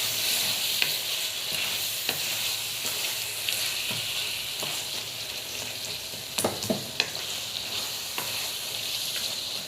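Masala sautéing in a pan for khushka rice, a steady close sizzle with occasional scraping stirs of a spoon against the pan and no talk.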